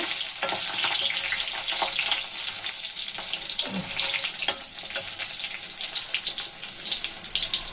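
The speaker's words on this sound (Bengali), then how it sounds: "বড়িগুলো একটু ভেজে নেব" Bori lentil dumplings frying in oil for a Bengali shukto, a dense continuous sizzle and crackle close up, fairly loud and steady with occasional soft stirring noises.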